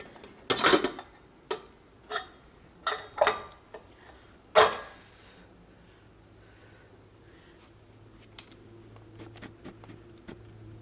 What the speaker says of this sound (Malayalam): ഇനി നമുക്ക് കുക്കർ തുറക്കാം.